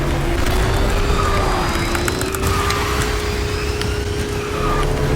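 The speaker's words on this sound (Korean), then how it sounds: "우리가 일반적으로 타는 파라곤이나 뭐 황금마차들보다는 부스터 소리가 좀 더 길게 나 그지?" A kart booster in the KartRider racing game, fitted with high-grade Plasma X PT parts, roars as a loud, sustained engine-like rush with a rising whine that runs unbroken for several seconds.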